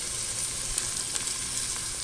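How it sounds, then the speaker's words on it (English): Chopped onions and garlic sizzling in olive oil in a pan, a steady close hiss of frying with small crackles throughout and no voices. "Okay, sizzle, sizzle, sizzle."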